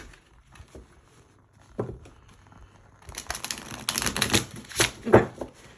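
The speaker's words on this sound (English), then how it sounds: "let's shuffle one more time" A deck of tarot cards is shuffled close up: a few soft taps at first, then a run of rapid papery riffling and slapping that grows louder toward the end.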